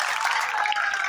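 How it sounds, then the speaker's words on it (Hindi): An audience at an annual school function claps, producing a brief, loud, dense burst of applause with no voices on top. "जोरदार तालियां सर"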